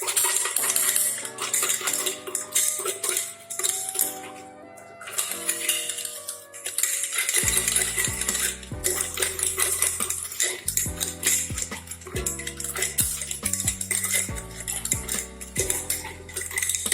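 A soil sample being stirred with sodium silicate dispersant in a container, a busy run of metallic clinks and scraping taps, with background music rising partway through.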